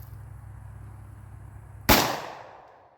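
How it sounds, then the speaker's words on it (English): A Taurus Judge Magnum revolver fires a single 3-inch buckshot shell outdoors, a sharp, loud blast that breaks a low background hum and rings off in a short decaying tail. "up next we have the Taurus Judge Magnum. This is a 3-inch triple lock buck in it."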